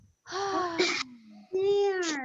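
A group of children in a vegetable garden lesson exhale together on cue, two breathy whooshes blended with voiced sighs, close and fairly loud.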